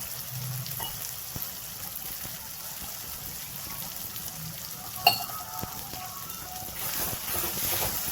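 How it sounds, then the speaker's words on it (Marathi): Green masala paste fries in oil for a sprouted moth bean curry, giving a steady, fairly faint sizzle with occasional stirring and one sharp clink. "तेलामध्ये चांगलं वाटण परतून घ्यायचं आहे आपल्याला"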